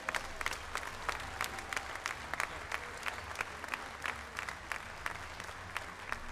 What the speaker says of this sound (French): Je vous demande un tonnerre d'applaudissements pour nos 2 juges.